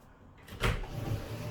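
A single sliding shower cubicle door rumbles along its track in one short, close movement, with a faint scrape trailing after.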